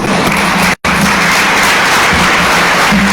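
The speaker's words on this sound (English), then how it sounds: "that's just a big round of applause for everybody" Steady, loud applause from an audience at a guide dog graduation ceremony, a dense wash of clapping that carries on with a brief cut partway through.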